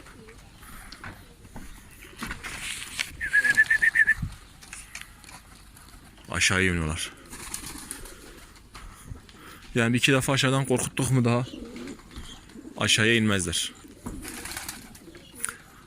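Pigeons coo and flutter intermittently among a few birds at a new coop, while someone speaks in several separate bursts over them.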